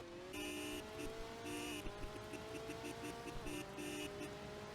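A Ferrari engine in the Driving Empire racing game pulls hard and steadily through its gears, a loud continuous whine rising in pitch with brief shift dips, with no talking over it.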